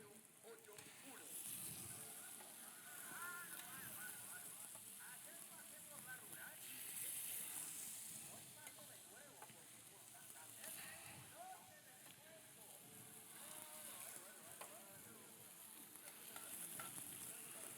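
Ginger and onion cook on a hot griddle, a continuous soft sizzle with occasional stirring scrapes, faint and steady beneath someone talking.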